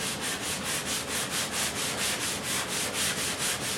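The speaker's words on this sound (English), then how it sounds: "you can see with just a couple of quick whacks with a sanding block" A sanding block rubs back and forth across guitar wood in quick, even strokes, a close, rhythmic scratchy rasp repeating about four times a second with no voices.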